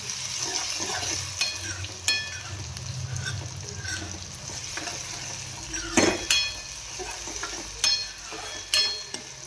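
Garlic stirred and frying in a pan gives a low steady sizzle, punctuated by several sharp metallic clinks and scrapes of the spoon against the pan.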